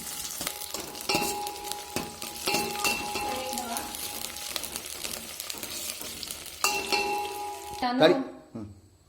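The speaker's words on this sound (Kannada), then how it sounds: "ಈರುಳ್ಳಿ ಸಹ ಹಾಕ್ತಾ ಇದ್ದೀನಿ. ಇದು ಚೆನ್ನಾಗಿ ಫ್ರೈ ಆಗೋವರೆಗೂ ಲೋ ಫ್ಲೇಮಲ್ಲಿಟ್ಟು ಫ್ರೈ ಮಾಡ್ತಾ ಹೋಗ್ಬೇಕು." Onion fries on a low flame for a curd gozzu, a soft sizzle broken by repeated scraping and clinks of a spoon stirring in the pan, ending in a brief louder clatter.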